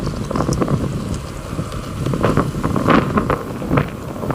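Strong wind gusts buffeting the microphone outdoors, a steady broadband rush with louder surges throughout, no voices.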